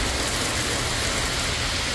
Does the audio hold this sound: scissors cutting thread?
no